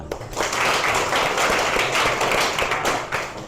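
A classroom of about 29 students bursts into steady, dense applause, a broad wash of clapping that holds at full strength for several seconds before tapering off.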